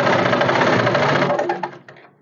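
Sewing machine stitching a seam on a blouse back panel, a loud, fast, steady needle whir that slows and stops with a few mechanical clicks.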